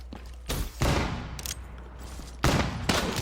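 Gunfire in the multiplayer shooter Call of Duty: Black Ops III, loud bursts of rapid shots close by, two main volleys separated by a short gap with echoing tails.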